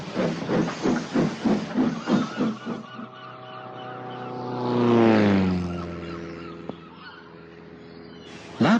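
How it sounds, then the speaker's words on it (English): Tiger Moth biplane passing overhead in an animated children's railway story, its propeller drone swelling to a loud peak as it nears then fading away, following rhythmic steam engine chuffs and a hiss. "That plane's making a great deal of noise about something, said Percy to Oliver."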